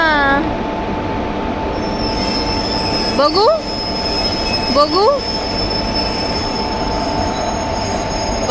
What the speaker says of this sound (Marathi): हे बघा ट्रेनचं इंजिन बदलते.